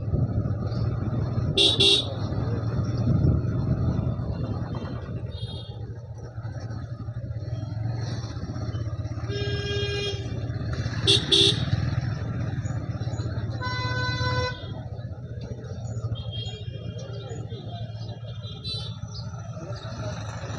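Busy road traffic on a drive near Chaibasa, Jharkhand, rumbles steadily while car and truck horns toot in short bursts and repeated beeps, some close, some farther off.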